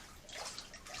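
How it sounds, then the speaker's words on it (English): Spring water welling up beneath a boulder inside a cave, a faint, brief gurgle and trickle with soft splashing bursts against a quiet background. "the water from the fisherman's lake there, it's coming up almost like a spring underneath this"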